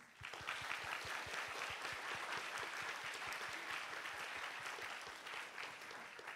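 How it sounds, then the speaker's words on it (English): A seated audience at a high school students' science conference applauds steadily, a dense wash of clapping held at an even level throughout with individual claps standing out near the front. "So a big round of applause to Dr."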